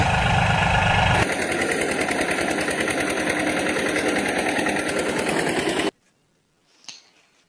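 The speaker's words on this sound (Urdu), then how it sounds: "پھر ٹرک مٹی چھوڑنے جاتا ہے۔" An engine sound for a toy truck carrying soil runs loud and steady with a rapid rattling, knocking throb for several seconds, then cuts off abruptly to near silence, leaving a brief faint noise.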